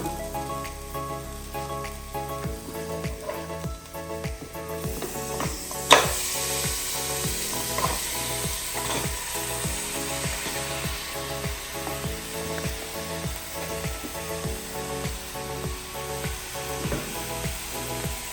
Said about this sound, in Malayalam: ചിക്കൻ ഇട്ട് നല്ലെണ്ണ ഇളക്കണം